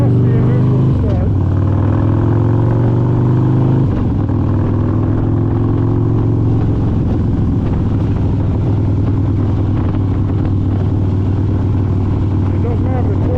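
A Harley-Davidson Street Glide motorcycle engine runs steadily with a loud, low, throbbing rumble that shifts pitch slightly in the first few seconds, then holds an even idle with no break.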